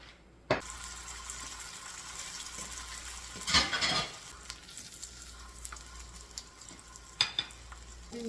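Food fries in a pan on a home stove with a steady, low sizzle. Occasional stirring scrapes and a couple of louder clattering bursts of utensil on pan break through, with no talking.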